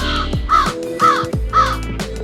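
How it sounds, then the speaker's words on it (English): A black crow perched up high near a Rhode Island mansion caws repeatedly, three loud, harsh calls spaced about half a second apart, close and clear against a quiet outdoor background. "Up there is the real annoying bird, that black dot. It doesn't want to shut up."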